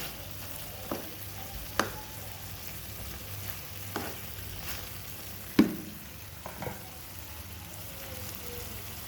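Suqaar, Somali small cubes of goat meat, stirred and mixed in a pan with spiced rice, giving a soft steady sizzle broken by a few sharp scrapes and clinks of the spoon against the pan, with no talking.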